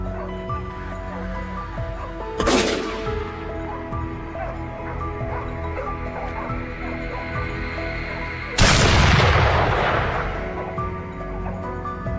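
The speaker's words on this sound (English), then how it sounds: "a decisive gunshot rings out" A single sharp gunshot cracks out during a wild boar hunt, followed by a second loud blast later, both close over steady outdoor background noise and faint dog yelps.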